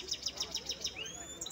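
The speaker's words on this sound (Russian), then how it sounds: "Это гибрид поет как соловей." A hybrid goldfinch sings at a bird market, repeating short high chirps about every 0.15 seconds, then rising whistled notes, fairly faint and close.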